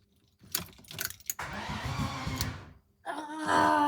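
A car engine cranking after repeated failed starting attempts, a few clicks and rattles, then a sustained rapid starter churn, a short pause, and another crank that rises in loudness, close by.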